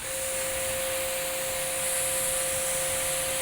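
A SunJoe pressure washer spraying through a 3.0 nozzle, giving a loud, steady hiss of water jet with a constant whine from the pump running alone throughout.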